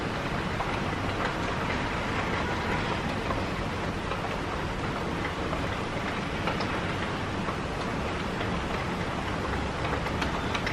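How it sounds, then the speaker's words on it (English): Heavy storm rain falls outside, a dense, constant hiss and patter heard from indoors at steady loudness without talking. "It's really raining outside."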